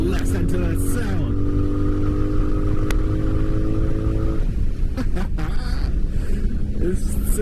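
A 1984 Honda Magna VF700C V4 motorcycle engine revs loud and steady while riding, its droning tones rising in pitch and then settling over constant wind rush.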